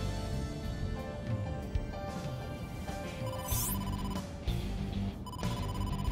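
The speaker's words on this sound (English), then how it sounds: "incoming call from the boss" An incoming-call ringtone plays in the AI: The Somnium Files video game. It is a steady electronic tone pattern over continuous game background music, with a brief whooshing sweep partway through.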